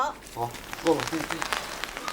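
Rain falling on a blueberry farm, a soft steady patter spread across the clip with a voice talking faintly over it.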